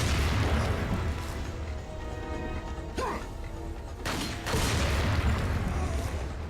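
Dynamite explosion in the Resident Evil 4 video game, a loud booming blast with crashing debris over a dense, rumbling game soundtrack, followed by a second heavy burst.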